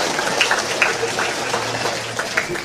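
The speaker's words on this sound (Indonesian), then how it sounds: "Tepuk tangan untuk seluruh umat atas semuanya." A Catholic church congregation claps together in a diffuse, steady wash of applause that carries on for a few seconds, with a few louder hand claps rising out of the mass.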